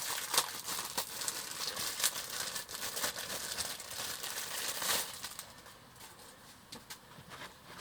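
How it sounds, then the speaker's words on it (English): Plastic packaging crinkles and rustles steadily as the body shell of a Tamiya 1:24 Castrol Nissan Skyline R32 GT-R Group A model kit is unwrapped, close and fairly loud, with bursts of crackling throughout. "We'll remove it from its packaging."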